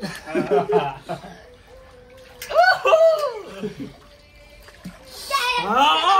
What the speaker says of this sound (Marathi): मी आता उतरतो पाण्यात